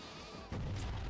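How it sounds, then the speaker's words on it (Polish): Sheep bleat in the Ratchet & Clank (2016) video game: a quiet stretch gives way to a louder, fuller burst of bleating midway, close and clear with no talking. "Pozabijajmy owce."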